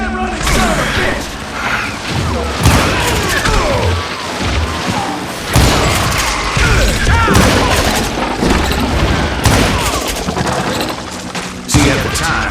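Sustained gunfire in Call of Juarez Gunslinger, a Western shooter, with dense overlapping pistol and rifle shots, booming impacts and mechanical clatter filling a loud, continuous battle.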